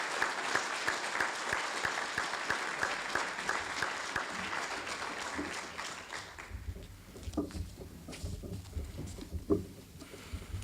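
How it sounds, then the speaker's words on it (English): Sustained audience applause fills a fire department awards ceremony hall, dense clapping for about six seconds before thinning into scattered, tapering claps and faint room noise. "A round of applause, please"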